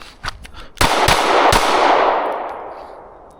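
Gunshots at an outdoor range during shooting drills: a few quick reports fired in rapid succession, loud and close, each followed by a long rolling echo that fades out.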